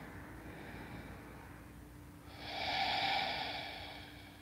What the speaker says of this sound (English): I'll take three breaths here.